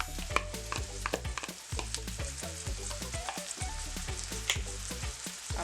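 Onions and smoked herring frying in a pan, a continuous crackling sizzle laced with frequent soft scraping and tapping from stirring, close and fairly quiet, with no voice.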